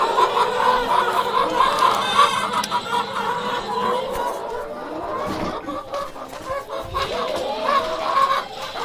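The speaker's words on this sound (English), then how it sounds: "they were kind of hollering here, the chickens were today" A flock of chickens clucks and hollers in an agitated chorus, nearby and fairly loud, with overlapping squawks rising and falling throughout.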